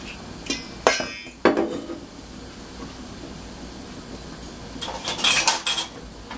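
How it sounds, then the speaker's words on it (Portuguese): Knife strikes on a cutting board as an onion is chopped during home cooking, a few sharp scattered knocks with a brief cluster of quicker taps near the end, close and alone without talk. "Já tô cortando ali a cebola."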